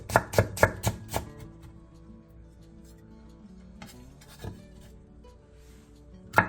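Half a carrot being julienned into thin 0.2 cm strips with a knife on a cutting board for japchae: five quick, sharp chops open the clip, then quieter scattered taps and a final loud knock at the end.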